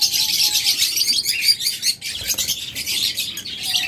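A pair of green-cheeked conures calls continuously up close, a dense stream of sharp, high chirps and screeches, loud and unbroken apart from a brief dip midway.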